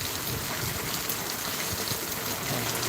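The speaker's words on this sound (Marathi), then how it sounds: "म्हणजे असा पाऊस आहे सगळा बघा" Heavy monsoon rain pours steadily during a Mumbai downpour, a dense, continuous hiss of drops striking surfaces, loud and unbroken throughout with no voices.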